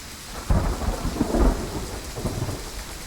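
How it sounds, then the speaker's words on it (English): Steady rain hisses while a deep roll of thunder rumbles in, swelling loudly and then fading back under the downpour, in the hunting video game Way of the Hunter. "Oh, listen to that rain."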